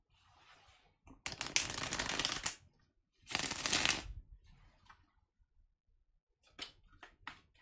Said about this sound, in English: So let's shuffle the cards.